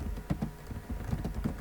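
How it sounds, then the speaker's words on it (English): Short burst of typing on a computer keyboard, a handful of soft, uneven key taps close by in a quiet room. "Type it so you can read it."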